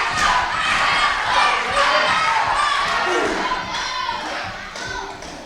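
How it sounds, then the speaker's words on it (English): A raucous wrestling crowd roars and cheers continuously at a live event, loud and dense throughout, gradually easing slightly toward the end. "This crowd is raucous for Astro Morales."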